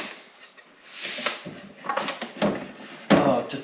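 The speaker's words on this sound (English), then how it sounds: "To take this drawer out," A cabinet drawer is unclipped and taken out, giving a run of close wooden clunks, slides and knocks of varying loudness, with no one speaking.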